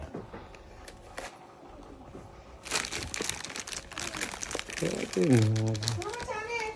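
A gift's paper wrapping is torn open and pulled off at a family surprise, with crinkling and rustling bursts running under lively talk from adults and a child, growing louder toward the end.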